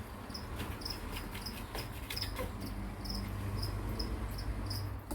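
Crickets chirp steadily in short, evenly spaced trills above a low background hum, with no talking.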